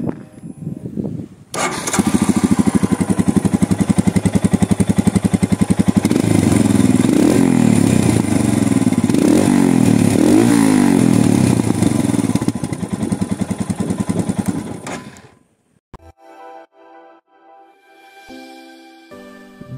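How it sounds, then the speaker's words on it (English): A Royal Enfield Himalayan 411cc adventure motorcycle starts up and idles with a loud, steady single-cylinder thump for about thirteen seconds, with slight revs midway, then shuts off, leaving faint clatter. "Let's hear to the exhaust note."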